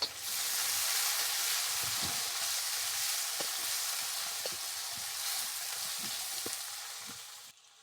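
Finely chopped tomato hits onion already frying in hot oil, giving a loud, steady broadband sizzle with occasional soft pops and stirring knocks, fading slightly toward the end, with no voices.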